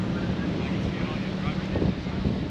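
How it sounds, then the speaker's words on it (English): Wind at a beach, easing after a gusty day of about 25 mph, rushes and buffets steadily across the microphone. A low, rumbling roar runs continuously through the whole stretch. "Wind finally calming down."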